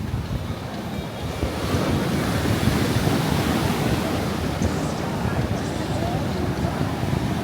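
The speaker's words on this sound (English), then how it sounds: "We got the big waves pumping today" Heavy ocean surf at Kuta Beach, Bali, roars continuously, big waves crashing and washing in a dense, steady wash, with wind buffeting the microphone.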